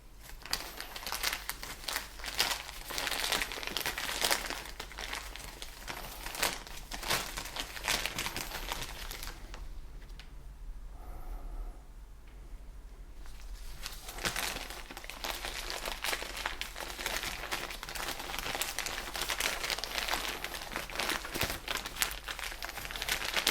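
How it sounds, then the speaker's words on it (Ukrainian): A plastic bag crinkles and rustles softly and steadily at close range as it is filled with moistened sphagnum moss while air layering a ficus benjamina, going briefly quiet midway before the crinkling resumes. "Наповнюю пакет."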